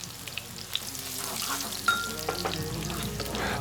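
Ingredients frying in oil in a pan before rice cake skewers are added, a close, steady crackling sizzle with occasional pops and stirring clatter, no talking.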